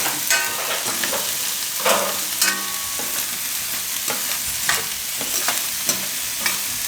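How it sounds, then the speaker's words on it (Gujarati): Green onions frying in a pan with a steady sizzle, while a spoon scrapes and stirs in repeated irregular strokes over the background hiss of the cooking. "તો હવે આપણામાં નાખી દે હું આ લીલી ડુંગળી એને ફેરવી લે હું થોડીક વાર."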